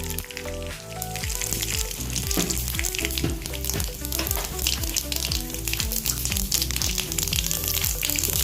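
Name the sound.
panch phoron spices sizzling in hot oil in a kadai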